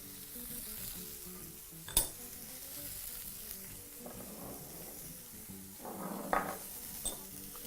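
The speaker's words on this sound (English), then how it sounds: "Now to bring your attention back to the other pan, we're going to proceed to add some butter." Butter sizzling in a frying pan, a soft steady hiss with occasional louder crackles and light clinks of utensils against the pan.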